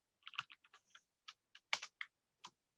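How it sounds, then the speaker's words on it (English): A computer keyboard is typed on in short irregular bursts of crisp key clicks, about a dozen taps close up against near silence. "hopefully you hear the typing noise"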